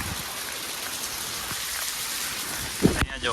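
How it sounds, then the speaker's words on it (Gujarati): Steady heavy monsoon rain in Gujarat hisses and patters throughout, dense and close, with a brief voice speaking near the end before the downpour continues. "હવે વરસાદ કેટલો કે સ્પીડમાં છે ને"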